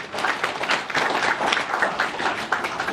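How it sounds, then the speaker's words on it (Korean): Audience applause fills a Korean genealogy UNESCO-registration report meeting, a dense, steady wash of many hands clapping at once that holds for the full few seconds without a break. "우리 신부자를 위해서 박수 한번 보내주시면 감사하겠습니다"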